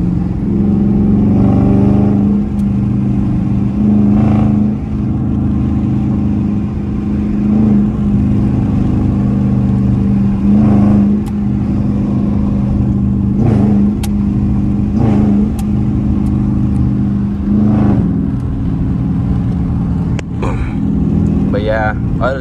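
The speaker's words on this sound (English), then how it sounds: "I know y'all like to hear the exhaust." Exhaust of a G35 drones loud and steady from inside the moving car, swelling and easing with throttle, while someone talks over it and wind noise.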